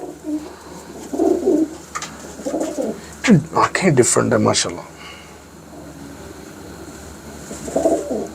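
Breeding pigeons coo softly in a loft, low burbling calls recurring under close conversation between people.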